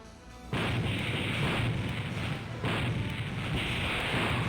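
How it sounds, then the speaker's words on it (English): Heavy ship cannons fire at an enemy vessel in the space game Infinite Space: a loud, deep blast hits suddenly and rumbles on, then a second big volley follows with a long, roaring, broadband tail. "All guns fire."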